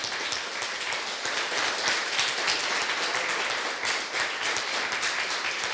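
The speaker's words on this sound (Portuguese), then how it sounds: "Aplauda ao Senhor." A church congregation claps together during a Lord's Supper service, a full, continuous round of applause at steady strength from start to end, with no speech on top.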